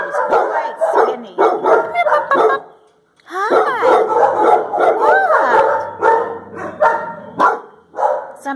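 A puppy barks and yips loudly in rapid, repeated bursts, with a brief pause before more high-pitched yelping and whimpering barks continue close by.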